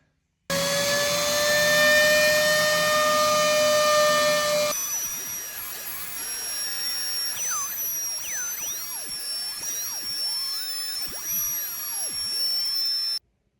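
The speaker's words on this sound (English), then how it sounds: "After playing with a Dremel and some sandpaper for a bit, that's pretty much our finished product." A Dremel rotary tool shaping a Mazda RX-8 front bumper gives a steady, loud high-pitched whine. Partway through, the pitch shifts as the tool works the part, adding wavering, sweeping tones under the constant motor note.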